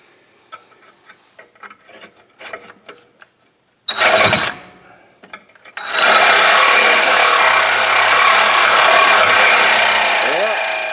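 A hand or power saw cutting out a rust-welded rear suspension bushing on a car, scattered knocks and scrapes at first, then a sustained loud grinding cut that runs to the end, near and harsh.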